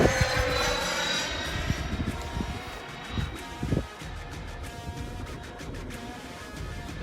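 A Freewing F-14 Tomcat radio-controlled jet airplane flies overhead, its ducted-fan engine producing a steady high whine with wind buffeting and rustling close to the microphone.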